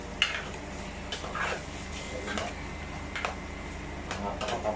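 Squid sautéing in a pan while being stirred, a low steady sizzle with repeated scraping stir strokes at irregular intervals, fairly quiet.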